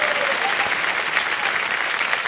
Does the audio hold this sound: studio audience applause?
yes